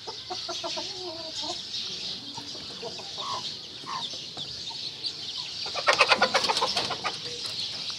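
Hens and their chicks cluck and peep close by as they peck at rice, with soft irregular clucks and a burst of busier, higher chirping near the end.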